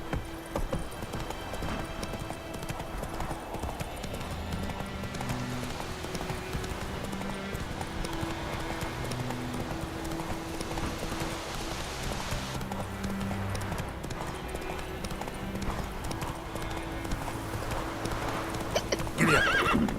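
Roach the horse in The Witcher 3 gallops with a steady, close run of clip-clopping hoofbeats and lets out whinnying neighs, all laid over continuous game music.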